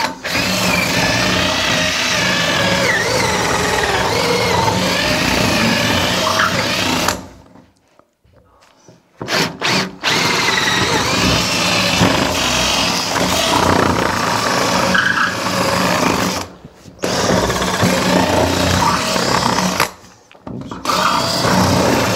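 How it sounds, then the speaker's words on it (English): An electric drill spins a bit to bore out wood for a door latch during a Portuguese farmhouse renovation, giving a sustained close whirring grind that stops briefly three times before resuming. "I'm kind of like using that part of the drill as it spins, and just to take the wood out."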